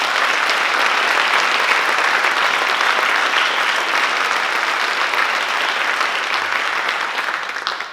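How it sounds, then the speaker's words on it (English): An audience applauds after a junior high and high school treble choir spring concert, with sustained, dense clapping that stays loud throughout and tapers slightly at the end. "So can we give them a round of applause?"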